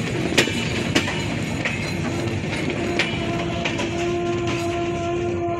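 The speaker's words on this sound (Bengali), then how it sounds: "আন্তনগর রূপসা এক্সপ্রেস ট্রেনটি আক্কেলপুর রেলওয়ে স্টেশন প্রবেশ করলো" The Rupsha Express intercity train rolls into Akkelpur railway station with a loud, steady rumble, periodic wheel clanks and a sustained tonal whine as it draws in.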